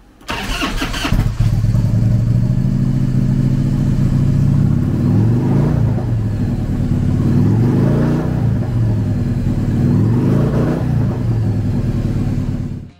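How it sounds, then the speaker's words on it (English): A 1996 Harley-Davidson Electra Glide Ultra Classic with an 81 cubic inch V-twin starts with a brief crank, then settles into a loud, close, lumpy idle broken by two or three throttle blips. "Powered by an 81 cubic inch V-twin motor, the Electra Glide puts 61 horsepower and 75 foot-pounds of torque through a 5-speed transmission."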